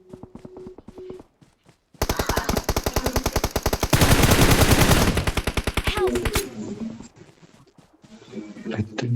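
Loud, rapid automatic gunfire from the BGMI mobile video game rattles in long sustained bursts, then tapers into scattered shots. Players' voices are heard briefly before and after the shooting.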